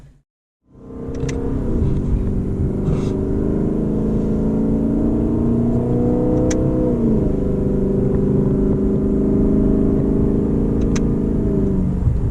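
A Lexus LC500 sports car engine revs loudly and steadily up close in manual mode, a deep continuous roar with pitch rising and settling, running for about twelve seconds without talk.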